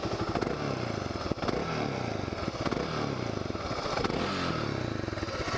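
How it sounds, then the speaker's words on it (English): A BMW G650 Xmoto supermoto motorcycle idles nearby with a steady, throbbing single-cylinder beat. Its exhaust is moderately loud, and a few small rises of revving and clattery mechanical noise come through, with no talking. "A bike like this, nice supermoto, it should be really loud and aggressive."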